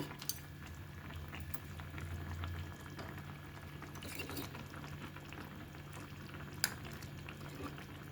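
A pot of raw banana and egg pulusu, a tamarind curry with oil risen to the top, simmers on the stove with a faint, steady bubbling and occasional soft pops, no talk.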